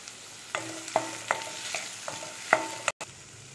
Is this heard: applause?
no